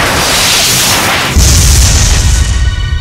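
A grenade blast in the video game Binary Domain hits as a single loud, sudden boom that rumbles on into a sustained roar.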